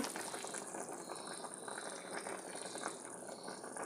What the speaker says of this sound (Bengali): এই তো তরকারি ফুটছে